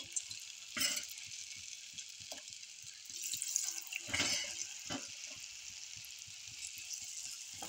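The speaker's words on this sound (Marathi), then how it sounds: "आता आपण तळणार आहोत" Soaked potato fingers coated in cornflour hiss and sizzle as they fry in hot oil on a full flame for French fries, a soft continuous crackle broken by a few louder splashes and stirring clatters.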